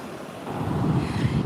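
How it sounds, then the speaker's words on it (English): Sea waves wash onto Caister Beach in a steady, low rushing roar that swells slightly, blended with wind buffeting the microphone outdoors. "I love the sound of the waves"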